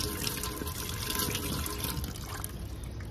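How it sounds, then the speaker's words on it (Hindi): Water poured backwards through the filter of a Haier automatic washing machine to flush out dirt, a steady close splashing rush that runs unbroken throughout with no talk. "आप इसको इधर से उल्टा पानी इसके अंदर डालें"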